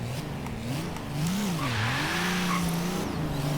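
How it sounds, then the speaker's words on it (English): Tire squeal from a Nissan Titan truck with a maxed-out Cummins diesel spinning its wheels in Forza Horizon 3, a loud sustained screech over a rising, wavering engine drone. "Got a little bit of tire spin there"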